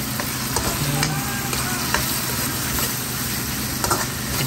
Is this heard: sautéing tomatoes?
yes